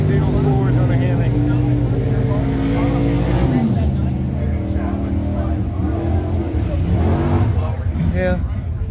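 A Hemi-powered drag racer engine with big four-barrel carburetors rumbles loud and steady nearby, its pitch climbing and falling through throttle blips, with people talking over it.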